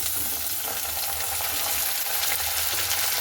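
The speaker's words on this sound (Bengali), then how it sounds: "গাজরটাকে দিয়ে একটু ভালো মতো করে নাড়াচাড়া করে নেব" Carrots stirred and fried in a pan for sago pulao, a fasting dish: a continuous, close hiss of frying with soft scraping of a utensil running through it, steady from start to finish.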